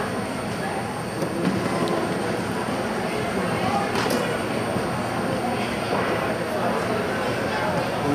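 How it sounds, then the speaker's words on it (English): A LYNX light rail train in Charlotte approaches the platform with a steady broad rumble and faint wheel noise, a brief clank midway; people talk throughout over the station ambience. "Train approaching. Please stand clear of the platform edge."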